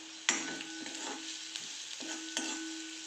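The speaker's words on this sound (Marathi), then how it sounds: "थोडी हळद परत छान मिक्स करून घ्यायचं आहे आपल्याला" Onion with a little turmeric stirred in a frying pan, a soft constant sizzle broken by a few sharp scraping strokes of a spatula against the pan, close and clear with no talking.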